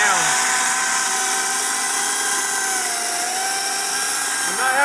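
A Kobalt 14-inch battery-powered electric chainsaw cuts up a tree, its high steady whine running loud and continuous with slight pitch dips as the chain loads in the wood.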